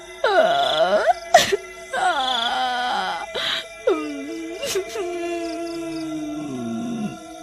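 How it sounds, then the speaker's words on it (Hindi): Someone wails and cries in a forest at midnight: long eerie moaning, groaning voice with rising and falling howls, close and alone, punctuated by a few sharp clicks. "आधी रात होने पर जंगल से किसी के रोने की आवाज"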